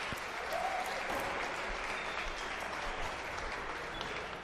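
A squash crowd at a professional quarterfinal breaks into sustained, even applause after a long rally, a dense wash of clapping that holds steady throughout.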